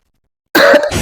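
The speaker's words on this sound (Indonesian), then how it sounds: "Itu batuk nih." A single harsh cough from a person erupts abruptly after silence, close and loud, trailing into a rough throat-clearing rasp.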